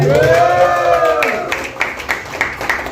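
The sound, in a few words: applause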